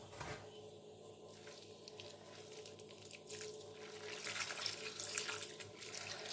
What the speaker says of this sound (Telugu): ఇప్పుడు ఇందులో నీళ్ళు కూడా పోసేద్దాం